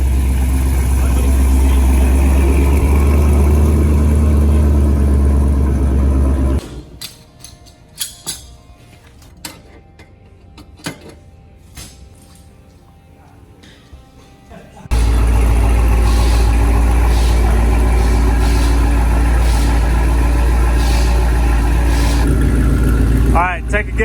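A loud LS3 V8 roars on a dyno, a sustained low, heavy engine drone that cuts out for several seconds and then returns at full strength, with people talking nearby.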